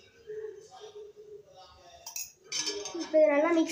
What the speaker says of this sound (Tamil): இப்போ இதை நல்லா மிக்ஸ் பண்ணிக்கணும்.